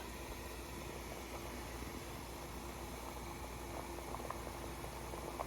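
Quiet, steady bubbling and hissing of water at a rolling boil in a pot on a stovetop with frozen brisket in it, faint and continuous with no voices.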